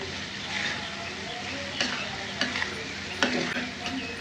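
Spiced liver filling for shingara, seasoned with garam masala and cumin powder, sizzles in a pan while a spoon stirs and scrapes it, steady frying hiss broken by several clacks of utensil on metal, close by.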